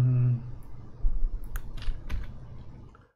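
Computer keyboard keys pressed while modelling a cartoon face in Blender, a short run of soft clicks and taps close to the mic, with someone speaking briefly at the start.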